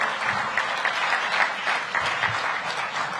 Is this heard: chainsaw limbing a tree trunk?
no